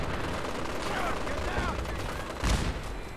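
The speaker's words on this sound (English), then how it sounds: "I'm hearing so many missiles in the background." Gunfire and missile blasts in the video game Fallout 4 form a dense, continuous barrage, with a heavier explosion near the end standing out over the din.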